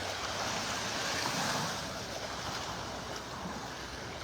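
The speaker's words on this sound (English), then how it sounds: "Just some little waves, nothing much here." Small waves washing steadily onto a beach in North Naples, Florida, a soft continuous surf hiss with light wind, fairly faint and without voices.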